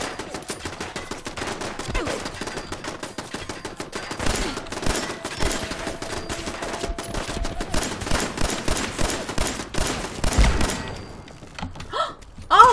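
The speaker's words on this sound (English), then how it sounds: "I hear a turret." Turret gunfire in the Fallout 4 video game: rapid, close bursts of automatic shots crackling almost continuously, with a heavier blast near the end.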